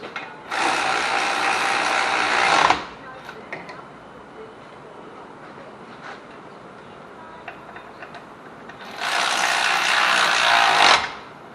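Two loud bursts of rapid ratchet clicking, each about two seconds long, as bolts are tightened on a Taurus wheel hub during hub and CV shaft replacement, separated by quieter shop noise and small taps.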